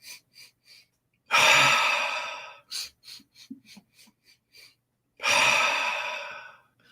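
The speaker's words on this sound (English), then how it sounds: "So 7 sniffs." Seven short sniffing inhales in a quick, even sequence, followed by a long audible exhale, close and clear with no talking.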